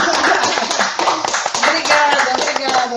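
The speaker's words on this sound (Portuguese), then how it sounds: "vamos dar uma salva de palmas" Applause from an audience honouring a writer at a book launch, a dense run of claps filling the moment with voices talking over it.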